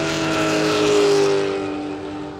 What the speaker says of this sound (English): You hear the tyre go, and you know that that's a push on the throttle.